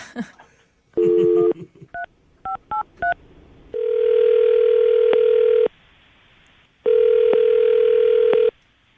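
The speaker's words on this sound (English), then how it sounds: "I'm going to dial the phone number right now." A quick series of touch-tone beeps as a number is dialed, followed by two long ringback tones separated by a pause.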